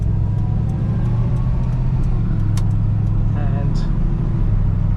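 A 1970s Holden HJ Premier drives along, its engine holding a low, steady rumble under road noise from inside the cabin, with someone talking over it throughout.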